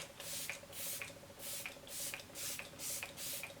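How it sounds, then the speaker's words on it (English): Repeated short hissing mists of makeup setting spray from a spritzer bottle, about seven quick bursts in steady rhythm, close and clear with no talking. "I honestly love to douse myself in setting spray"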